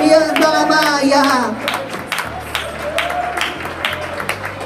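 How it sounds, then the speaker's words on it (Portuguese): A church congregation claps in praise during a sermon, steady scattered clapping beneath a preacher's voice, which carries strongly at first and then fades while the hands keep going. "Pode dar glória a Deus com as palmas, igreja"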